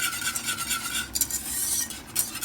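A whisk stirs milk into a roux sauce in a pan while making macaroni cheese, giving a continuous close scraping and swishing with light metallic taps and no talking.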